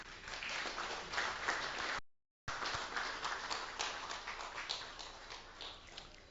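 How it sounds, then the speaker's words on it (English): Audience applause for a speaker at a correctional facility awards ceremony, a sustained, fairly distant clapping from a crowd, briefly cut to silence partway through before resuming and carrying on steadily. "I'd like you to give him another round of applause again"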